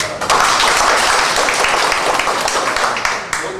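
A tour group gathered on a trip in China gives brief, close, fairly loud applause. The clapping is dense and steady, then tapers off near the end.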